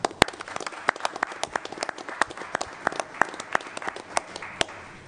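A small, sparse round of applause at a city council meeting: distinct individual claps from a handful of people in a quiet chamber, irregular and fairly close, lasting about five seconds.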